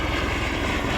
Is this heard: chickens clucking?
no